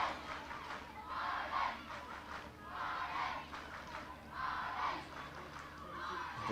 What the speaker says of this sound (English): Crowd on the far side getting into it, lending their support right in front of them.